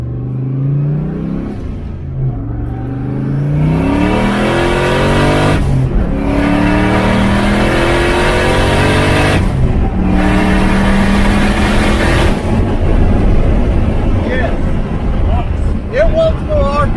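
A loud turbocharged car engine revs up repeatedly, climbing in pitch through several gear changes with brief drops between shifts, roaring close by.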